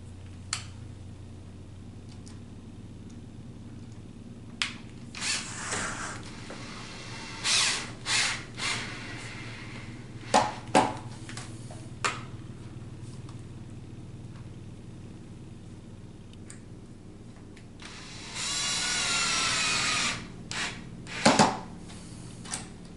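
A power drill drives the last two screws into the wood of a bar box, giving short whirring bursts scattered among quiet handling noises, then a longer steady run near the end, close and fairly loud.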